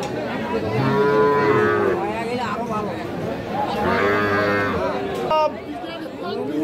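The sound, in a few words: cattle mooing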